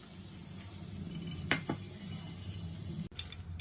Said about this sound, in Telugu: స్టవ్ పై కడాయి పెట్టుకుని కూరకు తగినంత ఆయిల్ వేసుకుందాం.